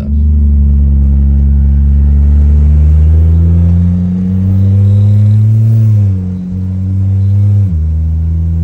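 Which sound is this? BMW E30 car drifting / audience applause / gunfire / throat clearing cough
BMW E30 car drifting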